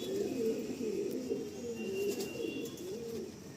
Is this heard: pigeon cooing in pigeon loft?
yes